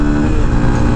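A Honda XR150L dual sport motorcycle engine revs hard under acceleration, a loud, steady, close-up drone with a rich harmonic growl held throughout one second.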